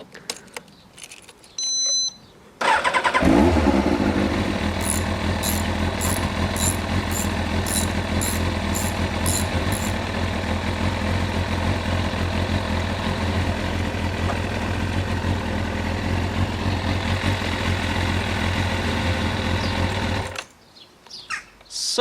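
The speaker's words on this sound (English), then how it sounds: "So what we're going to do is start the engine up" Motorcycle engine started and left running during an engine flush, a steady close idle hum lasting most of the stretch before cutting off, with a few faint metallic ticks early on.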